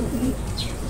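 A breeding bird, a pigeon or dove, gives a short, close, fairly loud coo with a soft, low, throaty tone.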